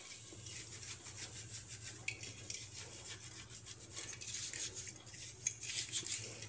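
Rhythmic rubbing and scraping against a brass pooja vessel, brisk back-and-forth scrubbing strokes close by with Sabena powder and lemon, with occasional light clinks.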